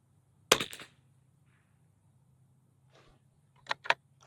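A Walther .22 LR pistol fires at an outdoor target: a quick cluster of sharp cracks, then a quiet gap, then two more close together near the end. The shots are moderately loud against a near-silent background.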